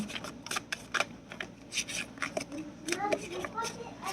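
Tarot cards are shuffled in quick, uneven riffles and slides, close by and fairly soft, with a voice speaking faintly underneath.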